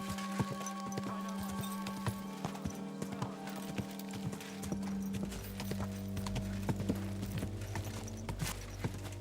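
Steady clip-clop of horse hooves during a ride in Kingdom Come Deliverance II, a regular walking rhythm, close and clear over a low hum with no talking.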